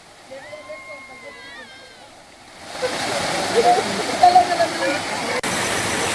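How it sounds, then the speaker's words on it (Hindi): Water pouring over the spillway of the Gagrin dam as it overflows, a steady loud rushing roar that swells in after a quieter opening with faint tonal sounds. "जिले के गागरिन डैम पर पहले ही चादर चल रही है"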